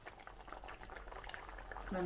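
A thick pumpkin and jaggery mixture bubbling and simmering steadily in a pot, a soft continuous burble with small pops throughout, close by.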